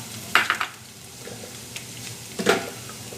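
Garlic and chilies tempering in hot mustard oil while cooking aloo methi palak sabzi, with two short bursts of sizzling and stirring close by and a quieter spitting in between.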